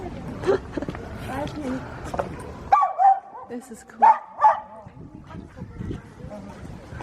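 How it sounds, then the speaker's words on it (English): A small dog yaps and barks in sharp, excited bursts at a larger, calm dog, close by, with several loud yips amid people chatting nearby. "small dog saw big dog"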